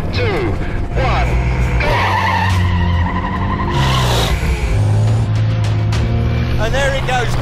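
Volvo Iron Knight 2400 hp racing truck accelerating hard down a speed-record track, a loud continuous engine roar with rising pitch sweeps, heard under excited commentary.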